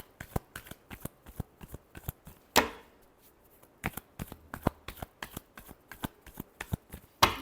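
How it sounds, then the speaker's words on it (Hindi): Tarot cards shuffled by hand in a rapid run of crisp riffling flicks and slaps, one louder burst partway through, close and steady with no talking. "Last shuffle."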